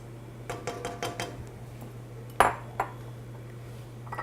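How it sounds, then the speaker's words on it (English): Sugar being stirred in a pan for an Asian sweet and sour sauce, a few light rhythmic spoon clinks against the metal followed by a sharper ringing tap and a softer one, quiet and close. "I'm going to give that a little bit of a stir, start that sugar melting"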